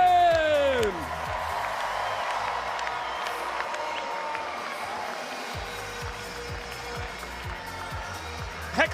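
A stadium crowd at a Banana Ball exhibition baseball game cheers and claps steadily at a distance, a broad sustained roar with scattered whoops, while an announcer talks over it.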